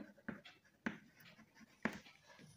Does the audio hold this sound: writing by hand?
yes